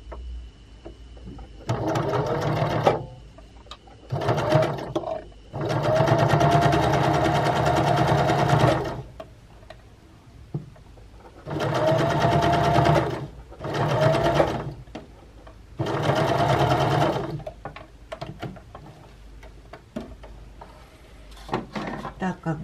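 Concealed zipper seam sewn on a sewing machine: several loud, close bursts of fast rhythmic stitching, each a few seconds long, separated by pauses filled with small handling clicks.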